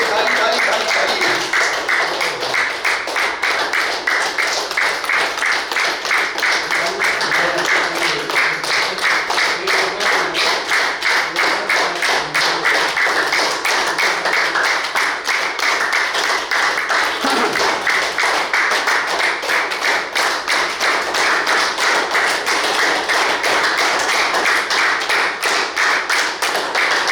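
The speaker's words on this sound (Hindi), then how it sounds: "Clap clap clap. गहरी सांस, चलिए, ताली ताली ताली ताली।" A group at a yoga workshop in a physical education department claps in a fast, steady rhythm that carries on throughout. The sharp, dense hand claps sound close, and a voice speaks faintly beneath them.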